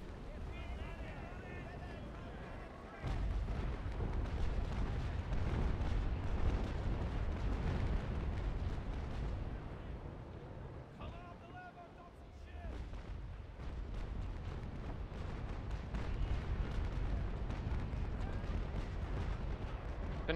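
Naval cannon fire in the sailing-ship battle game Naval Action, heard as a heavy, sustained low rumble of broadside booms that runs almost continuously for the whole stretch, with voices talking over it.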